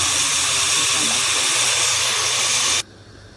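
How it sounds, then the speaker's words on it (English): A pressure cooker of Moroccan harira vents its steam in a loud, forceful, continuous hiss close by, holding steady for nearly three seconds before cutting off abruptly into near quiet. "I'm going to switch off the fire and release the air"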